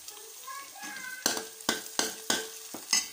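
Tapioca and egg being stirred in a hot pan, a spatula scraping in several sharp, evenly spaced strokes over a light sizzle, with faint tonal sounds early on.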